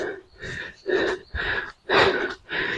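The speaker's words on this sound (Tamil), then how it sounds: "ஸோ ஏற ஏற பயங்கரமாக மூச்சு வாங்குது" Heavy, labored breathing from someone hiking uphill on a wet, sloping mountain trail near a waterfall, with five loud rhythmic panting gasps close to the microphone.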